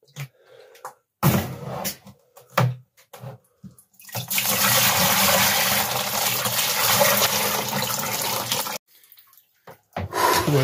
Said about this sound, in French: je prends une douche assez chaude finalement, avec des cristaux de glace partout autour de moi